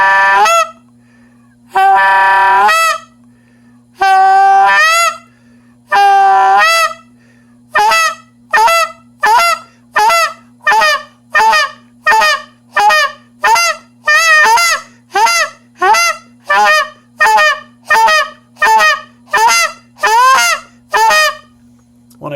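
A tube goose call is blown by a caller to imitate goose honks: a few long held notes, then a fast rhythmic run of about twenty sharp, loud honks, close and alone.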